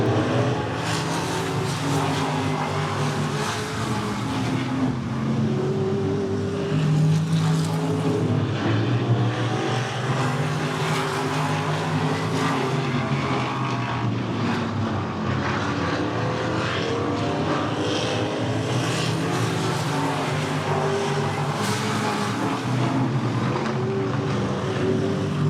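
Modified race cars roar around the I-94 Raceway oval during a feature race, a dense, continuous engine drone with shifting pitch as the pack circles, loud and steady for the whole stretch.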